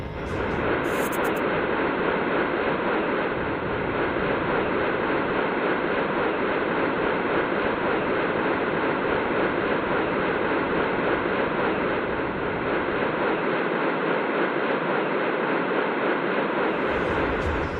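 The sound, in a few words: sonified sound of the Big Bang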